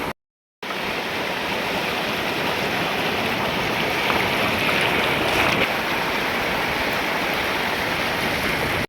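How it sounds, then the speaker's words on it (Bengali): Sea waves breaking on the shore at Digha beach, a loud continuous surf roar with a brief swell midway, close and steady, no voices. "ঢেউটা কিন্তু আজকে ভালোই আছে"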